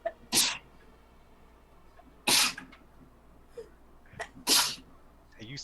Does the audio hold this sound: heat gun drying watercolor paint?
no